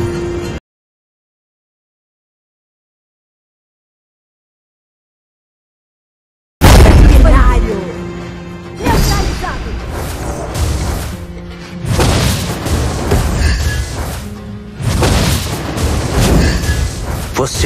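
Explosions in the video game Mobile Legends: Bang Bang, a run of loud booming blasts and bursts after a short silence, layered with game music and effects and a voice line between them.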